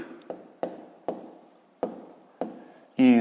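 A pen writes numbers on paper up close, giving five sharp, separate tapping strokes at irregular intervals, each with a short scratchy tail, before a brief voiced sound at the end.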